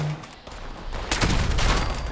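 Gauss pistol gunfire in the Fallout 76 video game, a loud burst of shots beginning about a second in and continuing as a sustained blast to the end, preceded by quiet ambience.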